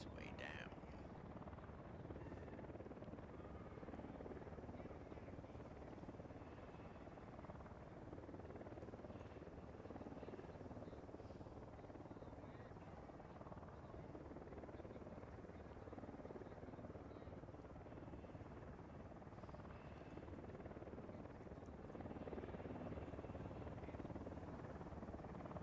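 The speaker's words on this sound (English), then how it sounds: "I'm just gonna wait here while the helicopter passes overhead" A video game helicopter passing overhead, a steady, dense rotor roar that stays loud and continuous throughout with no clear change.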